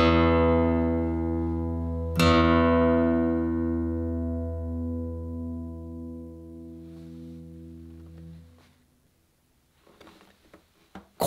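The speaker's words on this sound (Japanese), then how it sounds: "これがギブソンヴィンテージの低音ですよ。" Deep low notes strummed on a 1953 Gibson J-50 acoustic guitar, a single strong attack ringing out with long sustain and slowly fading over several seconds, heard alone before faint handling noises.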